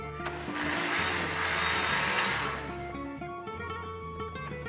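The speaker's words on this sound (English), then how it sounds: "we're gonna blend this for about 30 seconds till it's relatively smooth" A blender blending salsa verde whirs steadily with a loud, broadband motor roar, the pitch shifting slightly as it runs, then easing toward the end.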